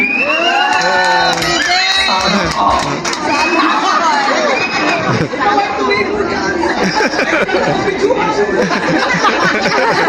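A large fiesta crowd in Roma cheers and shouts steadily, thick with chatter, children's cries and whoops, loud and close throughout with a brief dip around the middle.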